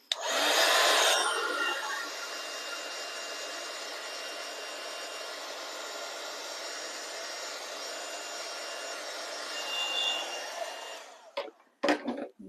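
A handheld heat dryer blows steadily for about eleven seconds while drying a crafting die-cut, with a louder burst at the start, then cuts off, leaving a few faint clicks and handling noises.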